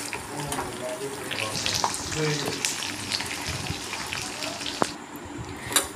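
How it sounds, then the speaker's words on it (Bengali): Sesame and fennel seeds frying in a pan while making homemade hair oil, a soft continuous crackle and sizzle with some watery hiss and occasional stirring clinks, moderately quiet throughout. "তো আমি এটা এখন ভাজতে থাকবো"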